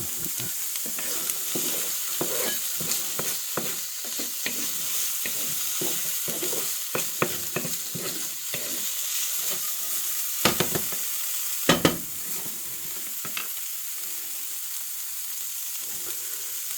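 Shrimp frying in a pan over medium heat, a loud, constant crackling sizzle broken by repeated scraping and stirring strokes and a few sharper clatters, no talking.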